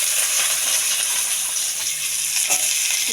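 Chopped onions with urad dal, cumin and mustard seeds frying in hot oil for a drumstick and chickpea curry, a steady close sizzle running throughout with faint scrapes near the end.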